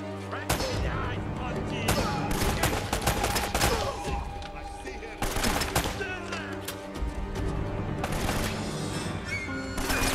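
Dense, rapid gunfire bursts from a shootout in Uncharted: Drake's Fortune, loud and continuous over steady game music, with sharp cracks clustering in volleys across the whole stretch.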